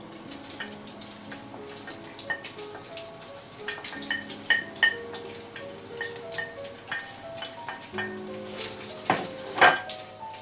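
Smoked raw bacon and smoked scalded bacon sizzle in a pan while the fat renders for homemade lard. A soft steady sizzle runs under close clinks and scrapes of a utensil against the pot.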